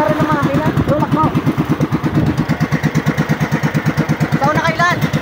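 A small boat's engine runs at sea, a loud, steady chugging with an even rhythm of pulses, while people talk over it.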